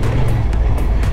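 A 2024 Honda XL750 Transalp motorcycle accelerates gently on gravel off-road, its engine a loud, close, rumbling drone with steady wind buffeting over the whole brief stretch.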